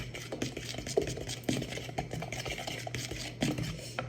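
Banana muffin batter stirred in a bowl with a spoon, soft scraping and knocking strokes repeating steadily at close range, with no talking.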